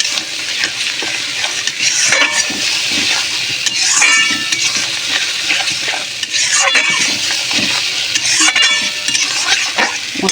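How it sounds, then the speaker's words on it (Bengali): Spice paste with turmeric and chili powder sautéed in a pan, a loud steady sizzle broken by repeated metal spoon scrapes and clinks against the pan at irregular intervals, with no one speaking. "মশলাটা কষাবো।"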